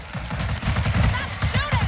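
Rapid automatic gunfire in World War Z, a zombie shooter game. The shots are loud, close and evenly spaced, with several weapons firing together.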